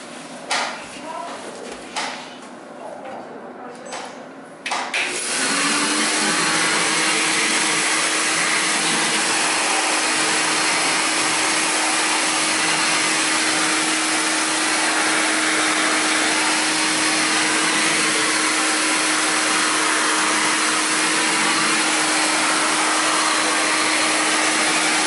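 A loud 1970s Compact C9 Tristar vacuum cleaner on a bare floor starts up after a few seconds of quieter sound, then drones steadily for a long stretch.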